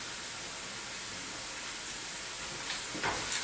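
Broad steady sizzle of a pan sauce with sweet chili bubbling and reducing, a close, even hiss with a few sharper crackles near the end.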